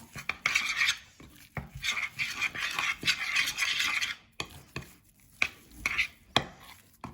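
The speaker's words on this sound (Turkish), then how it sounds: "Şimdi iyice karıştırıyorum." Homemade slime mixture made without borax or glue is stirred vigorously in a bowl, giving bursts of wet scraping and clinking, paused briefly between rounds, close and fairly loud.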